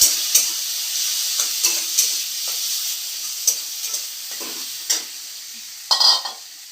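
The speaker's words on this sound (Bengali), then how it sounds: "এখন আমি এটাতে দিয়ে দেব চিংড়ি মাছটা," Fried prawns go into a hot pan with potatoes and are stirred, giving a steady close sizzle broken by repeated scraping stirs of the spatula, with no voices.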